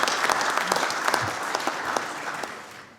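A parliamentary nuclear-industry gathering applauds a book's author, with brisk, full clapping from the room that stays strong, then thins and fades toward the end.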